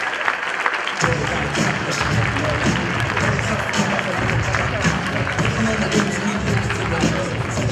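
A church congregation breaks into loud applause for the preacher after a quiet moment, full sustained clapping from a large crowd with cheers and voices mixed in.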